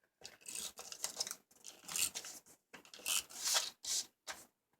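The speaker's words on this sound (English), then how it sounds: "So I'm going to use a tape runner." Tape runner laying adhesive strips onto 6x6 paper halves for a folded box, a series of close, quiet rasping pulls in short bursts with gaps between them.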